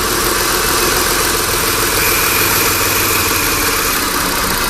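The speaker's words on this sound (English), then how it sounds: "You can hear the engine slow down a little bit as it draws in some of the carb cleaner" A steady car engine idles loudly and continuously while drawing in carb cleaner, slowing slightly, a dense mechanical rumble with no voices.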